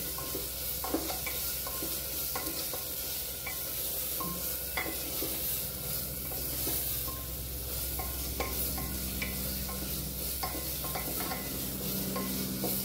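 Tomatoes sautéing in a pan for a drumstick and potato curry, a steady sizzle and frying hiss throughout with repeated clinks and scrapes of a spoon stirring, close and continuous with no talking.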